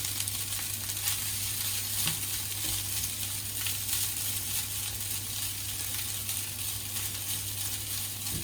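Chicken fried rice being stirred and mixed in a hot pan gives a steady, close sizzle and frying crackle throughout, with soft scraping of stirring and no talking.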